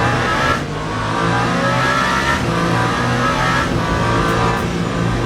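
A Ferrari race car in Le Mans Ultimate drives into the pits, its engine a loud, steady, harmonic drone close by, rising slightly in pitch as it holds speed, with no voices over it.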